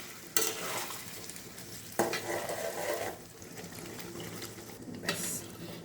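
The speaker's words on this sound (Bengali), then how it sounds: "এবার যেইটুকুনি ঝোল আমি রাখতে চাইছি সেই পরিমাণে গরম জল এর মধ্যে দিয়ে দেবো।" Hot water is poured into a Bengali-style pumpkin curry (kumror chokka) and stirred in, with quiet splashing and bubbling and a few short bursts of stirring against the pot.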